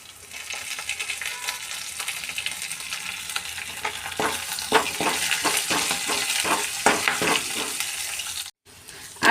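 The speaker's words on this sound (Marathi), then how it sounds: "असे ही पेस्ट आपली भाजली जाते आहे, तर त्यामध्ये आपण थोडा कढीपत्ता घालूया" Spice paste for kadhi fries in a pan with a steady hiss, then curry leaves drop in and the crackle grows into sharper bursts of spitting and sizzling, close and without voices.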